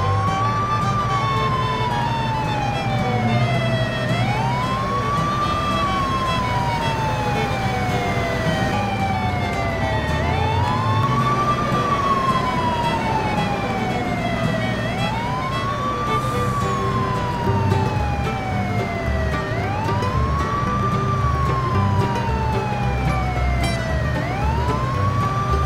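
A toy ambulance siren wails, rising and falling in a repeating cycle, steady and fairly loud, with a faint background hum and no talking.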